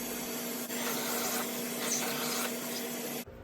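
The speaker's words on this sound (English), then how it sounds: "Use a shop vac to clean up and hit both ends of each PVC pipe before final assembly." A shop vac runs steadily with a constant whining roar while cleaning PVC pipe ends, its tone shifting slightly as the nozzle moves, then the motor cuts off abruptly near the end.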